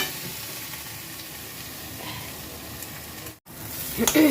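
Mustard and poppy seed paste with poppy leaves frying in a pan gives a steady, even sizzle throughout, with a short break near the end followed by a louder crackle and stir.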